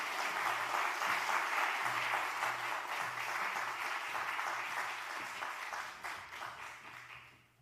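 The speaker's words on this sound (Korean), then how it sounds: "우리 나오실 때 박수로 우리 크게 환영하도록 하겠습니다" Audience applause welcoming a church elder to a joint church evangelism seminar, a dense, steady clapping from a large crowd that holds for several seconds and then gradually fades out.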